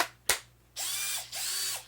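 A cordless power drill, checked with a slightly different battery, whirs in two steady bursts of about half a second each with a short pause between them, preceded by a sharp click, close and fairly loud.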